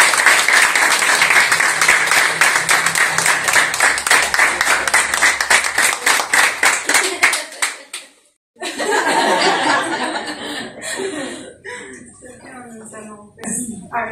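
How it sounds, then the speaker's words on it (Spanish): Loud audience applause at a home gathering, dense clapping that fills the first eight seconds, breaks off briefly, then resumes more raggedly with cheering and chatter mixed in. "Me regalan, me ayudan a darles un fuerte aplauso,"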